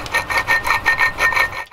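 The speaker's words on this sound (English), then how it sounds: "That noise is the bad bearing seal," A BMW water pump with a bad bearing seal, removed from its housing, giving off a rhythmic grinding, rasping scrape that repeats about every fifth of a second, close and fairly loud.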